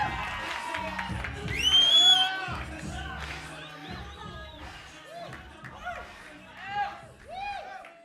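A live audience whoops and cheers in bursts, with a swell of shouting around the middle and another near the end, mixed with excited voices and a lone speaker talking through it.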